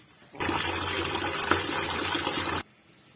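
Fish is rubbed and washed in salted water, giving a dense, steady rush of sloshing water that starts abruptly, holds for about two seconds close to the mic, then stops cleanly, with no talking.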